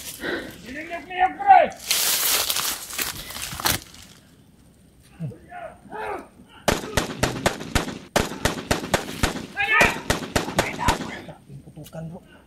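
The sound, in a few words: gunfire in a video game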